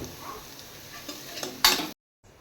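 Finely chopped onion sizzles and fries in a pan, a steady soft hiss with a stronger burst of sizzle near the end before sudden silence.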